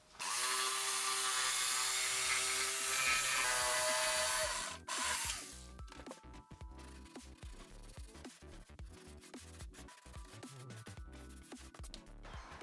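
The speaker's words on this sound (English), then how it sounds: "using the jigsaw, we're going to cut on that center line and cut it out" Jigsaw cutting a hole in a wooden cornhole board, a loud steady buzzing cut for about five seconds, then a rattling, stuttering motor as the blade slows and the piece works free.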